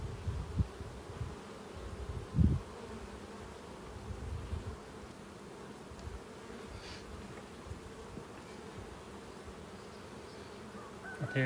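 Carniolan honey bees buzz softly around an open hive during a frame inspection, a steady, faint, continuous hum with a few brief knocks and bumps near the start.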